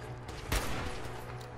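Gunfire in a Fallout 4 battle between a Protectron and a Gunner Mr. Gutsy: a single sharp burst near the middle over a steady low in-game hum, fairly faint and brief.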